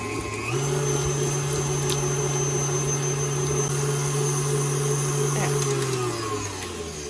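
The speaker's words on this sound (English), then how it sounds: "Just kind of cream the butter for a little bit." Electric mixer creaming softened butter for an eggless chocolate cake, a steady loud motor whir that starts up within the first second and holds an even hum before slowing near the end.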